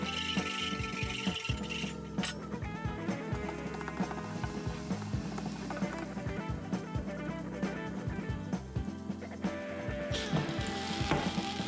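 Onions softening and frying in a pan for a Spanish-style omelette, a continuous close sizzle and crackle with occasional stirring, no talking.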